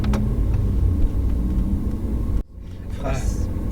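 A car engine rumbles steadily up close on a racing circuit, then briefly drops away as a Caterham sports car roars past, its higher-pitched engine rising near the end.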